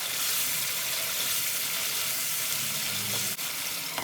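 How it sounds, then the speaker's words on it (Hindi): Masala with Kashmiri chili powder and tomato paste fries in a pan, giving a loud, continuous close-up sizzle with a brief scrape of stirring near the end and no voices. "अब मैं मिक्स करूंगी और इसे अच्छा सा भून लेंगे।"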